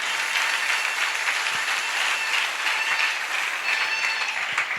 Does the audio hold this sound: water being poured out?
no